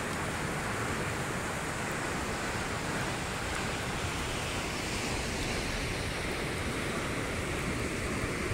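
Water pours steadily at Harvalem waterfall in Goa, heard from close beneath the falling stream as a dense, even roar that fills the whole stretch with no voices.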